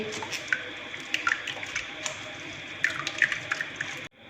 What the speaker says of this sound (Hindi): इसको मैं अच्छे से प्रेस करके इसका पानी निकाल लूँगी।